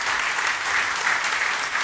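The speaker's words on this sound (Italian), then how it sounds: "un applauso anche ad Emilio" Audience applause at an Italian political campaign event, a dense, steady wash of clapping hands from a crowd, loud and sustained throughout the short burst.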